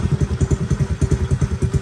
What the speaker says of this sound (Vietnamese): Bô nghe đã lắm anh em ơi, bô nghe đã lắm, máy thì thầm luôn nha